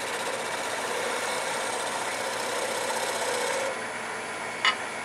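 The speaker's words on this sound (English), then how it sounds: "Back to my detail gouge." Detail gouge cutting wood on a lathe while turning an off-center medallion, a steady close whirring and rasping drone that runs unbroken, softens near the end, then ends with a brief click.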